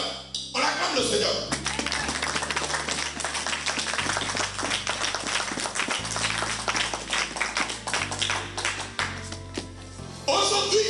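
A church congregation claps to acclaim the Lord during a sermon, with steady, loud rhythmic clapping over music with a sustained low bass line and talk, continuing throughout.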